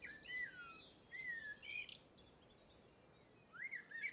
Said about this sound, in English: Here at the East Coast Nature Reserve, the birdsong is fantastic